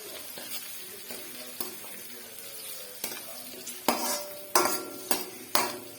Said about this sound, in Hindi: तो अब हम इस पे डालेंगे थोड़ी सी लाल मिर्च, ठीक है, लाल मिर्च डालेंगे।